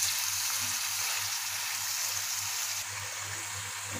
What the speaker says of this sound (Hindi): ये देखें अब गोश्त इसमें भुना जा रहा है